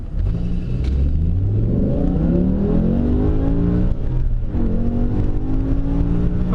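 A BMW M5 accelerates hard, heard from inside with a loud, rising engine drone that climbs in pitch, drops briefly at each gear shift and then climbs again.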